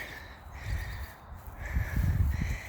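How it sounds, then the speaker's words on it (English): A bird calls several times along a bayou nature trail in outdoor woodland, a harsh crow-like cawing at moderate distance over a low background rumble. "If I'm right, that is a rare species of bird."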